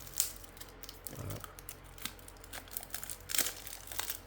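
Plastic wrap on a two-player card game starter deck crinkles and tears open in short bursts, up close, with a low thump midway and sharper crackles toward the end.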